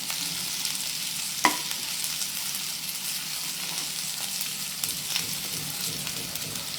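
Food fries in a pan with a continuous close hiss and sizzle, broken by a few light taps and stirring scrapes.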